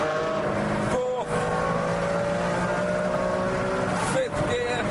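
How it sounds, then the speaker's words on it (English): A 600-horsepower Ferrari Enzo engine pulls hard out of a corner on a track, a loud, steady high-pitched roar with brief dips at two gear changes, heard from onboard. "And now the car leaps out of that corner."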